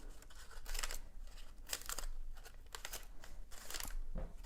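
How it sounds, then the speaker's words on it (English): Scissors cutting paper in a series of close, crisp snips and crinkly slices, irregularly spaced, fairly quiet. "I can use my scissors"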